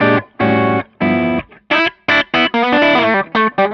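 An electric guitar plays through a Megaplex Stage 3 amp at very low volume, with short chimey chord stabs and quick phrases separated by brief gaps.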